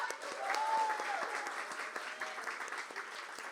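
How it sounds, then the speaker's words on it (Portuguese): Applause from a women's church conference audience for the singers who just performed, a dense, steady wash of many hands clapping at moderate distance, with a faint voice rising briefly above it. "Uma salva de palmas para as mulheres incríveis que cantaram agora."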